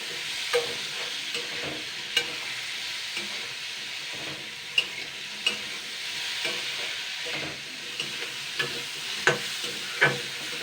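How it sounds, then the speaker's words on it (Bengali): Pumpkin pieces cooking in a pan with salt, sugar and turmeric, gently stirred, making a soft steady sizzle punctuated by scattered sharp scrapes and taps of the spatula, close up with no talking. "এরপরে আমি আবারও দুই মিনিট মতন হালকা নাড়াচাড়া করে নেব"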